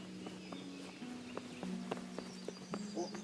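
Horse hooves clip-clop at a steady walking pace in the medieval game Kingdom Come: Deliverance, faint and evenly spaced over a low hum, with some voice in the background.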